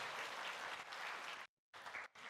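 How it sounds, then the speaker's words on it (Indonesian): A church congregation applauds during an anniversary Sunday service, a brief, faint patter of clapping that breaks off into silence for a moment and then resumes. "tolong berikan tepuk tangan Bapak Ibu"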